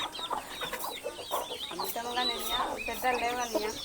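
Chickens cluck and chatter nearby in a busy, overlapping flock, with some voices mixed in.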